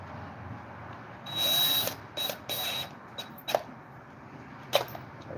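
Screws being driven into the bottom of a chainsaw part under restoration: a few short mechanical whirring bursts with a faint high whine, separated by pauses and a couple of sharp clicks, fairly quiet and close.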